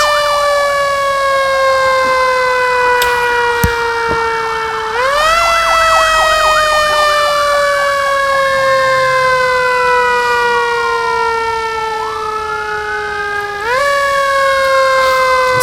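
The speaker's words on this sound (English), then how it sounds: "Sirens were wailing and the train was rolling along." A loud, close siren on a fire train wails in long rising and falling sweeps, restarting several times over a steady rumble, with no voices.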